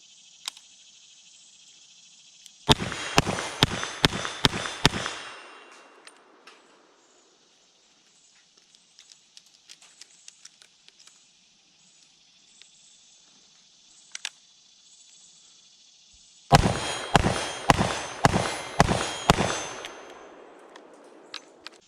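A Smith & Wesson model 19-4 revolver fired outdoors, one cylinder of .38 Special and then one of .357 Magnum: two quick strings of five or six loud sharp shots with ringing between them, insects chirping steadily in the background.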